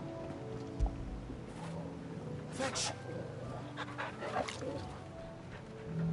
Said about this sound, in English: Okay, pet the dog.